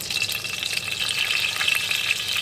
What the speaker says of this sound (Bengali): দেখো এখানে মাছ ভাজার তেলটা আমি দিয়ে দিচ্ছি